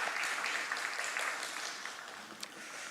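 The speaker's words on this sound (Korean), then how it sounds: "우리 하나님께 영광의 박수를 드리겠습니다" Congregation applause at a youth worship service, a soft, steady wash of clapping heard from a moderate distance that holds evenly for about three seconds, with no voices over it.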